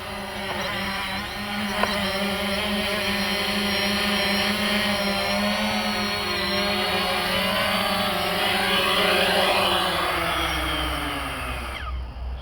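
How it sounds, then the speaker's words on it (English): A Fimi X8 SE drone flying and coming in to land, a steady loud whining motor drone with layered buzzing tones that shift in pitch as it descends, cutting off abruptly at the end. "we took the Fimi X8 SE up in the air today"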